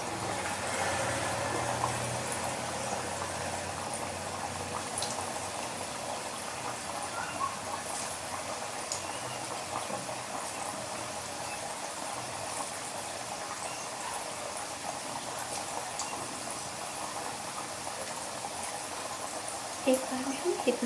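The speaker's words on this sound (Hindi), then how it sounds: "देखिए ऑयल अच्छे से गर्म हो चुका है। अब हम इसको तल सकते हैं।" Thekua dough frying in hot oil over a low flame: a steady, fairly soft bubbling hiss continues evenly from start to finish.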